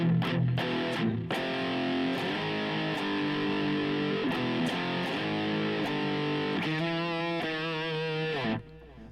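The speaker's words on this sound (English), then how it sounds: "So let's add some distortion to this firstly." An electric guitar run through a distortion effect in the Gauss app on iOS plays a sequence of thick, saturated chords and sustained notes, loud and continuous, with some sharp attacks before cutting off near the end.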